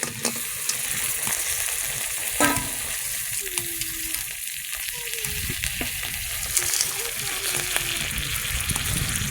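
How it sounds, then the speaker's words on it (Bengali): Crabs go into hot water with a little oil and turmeric in a pan, making a continuous hissing bubble with scattered small clicks and splashes, all fairly close. "জল গরম হয়ে গেছে সামান্য একটু তেল দেবো সামান্য একটু হলুদ দেবো এই কাঁকড়াগুলো দিয়ে দেবো"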